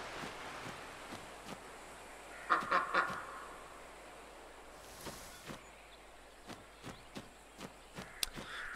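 A duck quacks in the video game Lost Ember, a short burst of calls standing out over a quiet ambient background with scattered soft footstep-like taps.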